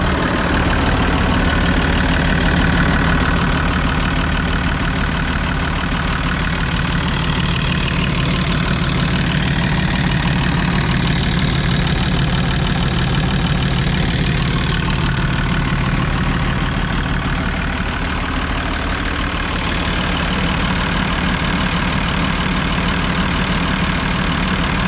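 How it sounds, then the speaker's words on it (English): A 2007 Freightliner M2106 aerial bucket and dump truck, rated 210 horsepower, idles with a steady low diesel rumble, close and loud, continuous and unchanging throughout with no talking. "I'll just let you listen to the motor now."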